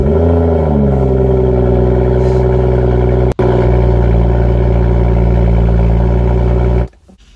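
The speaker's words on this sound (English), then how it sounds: "that first cold start" A BMW car engine on its first cold start, settling into a loud, steady idle with a rhythmic low throb and a brief dropout midway, then cutting off near the end.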